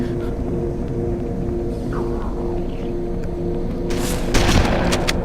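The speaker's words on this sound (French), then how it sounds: "Ça tire à côté." Gunfire in Halo: Combat Evolved, a steady game soundscape with a low drone, then a cluster of sharp shots and bursts near the end, moderately loud.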